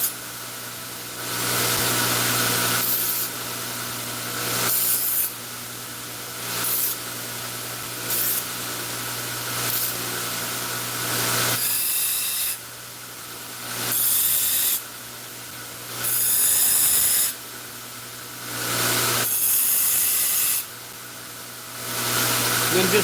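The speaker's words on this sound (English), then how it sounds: "I just take my burrs off." Repeated bursts of harsh hissing grinding as burrs are taken off a steel throwing star, each lasting a few seconds with short pauses between, loud and close.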